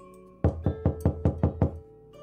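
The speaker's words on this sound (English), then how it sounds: "the loud knock at August's door has made the decision for me" In the video game When The Night Comes, six loud, evenly spaced knocks strike a door in quick succession against a quiet background hum.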